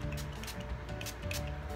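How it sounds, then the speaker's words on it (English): Mario Badescu facial spray with aloe, cucumber and green tea misted from a pump bottle, a few quick soft hissing bursts close to the ear. "I'm gonna go ahead and do my little facial spray."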